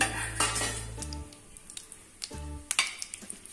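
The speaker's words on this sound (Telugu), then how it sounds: "చూడండి సగ్గుబియ్యం ఎలా ఫ్రై అయిపోతున్నాయో" Sago pearls frying in a pan, with a soft sizzle under scattered scraping and clinks of a spoon against the metal pan, close and moderate, plus a couple of low hums and no speech.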